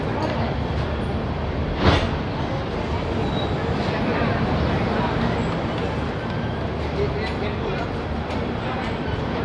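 Train pulling into Asansol Junction station, a steady broadband rumble of wheels and carriage noise throughout, with a brief sharp squeal or clank near the start and station murmur beneath.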